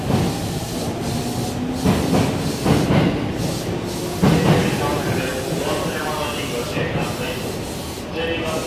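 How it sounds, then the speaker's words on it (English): Japan Rail E231-500 series train departing and an E233-0 series arriving at Shinjuku station platforms, a steady rumble and rail noise with hiss and clatter under a busy station ambience with voices. "The E231-500 series is departing platform 14, just as we have another E233-0 series arriving into platform 12."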